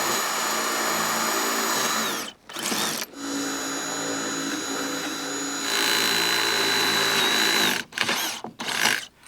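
A power drill drives eye bolts into a board on a large Alaska greenhouse, whirring in long steady bursts close by, broken by a few short pauses and quick stop-start pulses near the end.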